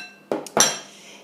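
A spoon stirring cooked potato flesh into cream cheese in a bowl makes two distinct clinks against the dish in quick succession, followed by a fading ring in an otherwise quiet room.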